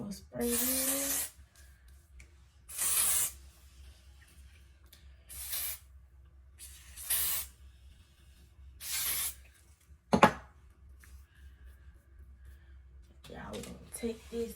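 Several long hissing bursts of aerosol spray, close and loud, coming in spaced pulses with quiet gaps and a few small clicks and handling noises between them.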